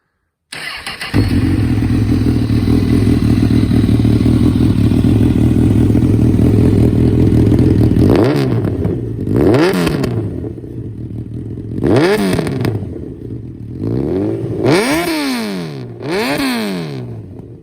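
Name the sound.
2014 Honda CB1000R motorcycle engine running and revving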